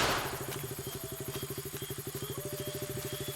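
A motorcycle engine idles nearby with an even, rapid thumping pulse that holds steady throughout, no talking.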